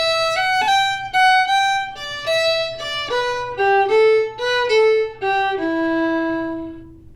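A solo fiddle plays a short descending phrase from the tune Off To California, with crisp separated bow strokes, a quick flicked ornament among the notes, and a final sustained note that rings out, close and clear.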